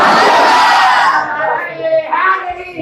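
Loud crowd at a religious gathering shouting slogans in unison, a dense burst of many voices that thins into scattered calls and responses.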